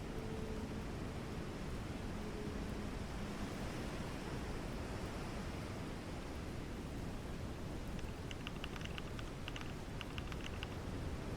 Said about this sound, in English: New ocean ambience track.